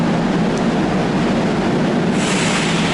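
A loud, steady rumble of a metro train in motion, with constant roaring wheel and track noise throughout.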